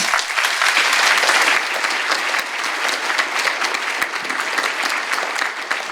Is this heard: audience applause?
yes